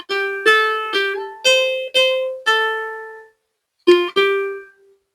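A guitar plays a melody from its first notes, a run of six clean plucked notes in steady rhythm, then a pause and two more notes ringing out, alone and close.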